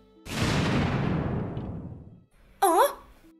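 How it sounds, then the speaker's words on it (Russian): An explosion sound effect in a manga voiceover: a loud boom that decays over about two seconds, followed by a short voiced sound. "Звучит так, будто что-то взорвалось."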